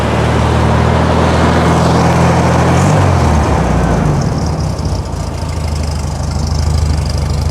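A 1964 VW Beetle with a 1600cc engine cranks and fires up, then settles into a loud, steady, rattly idle close by, with no talking.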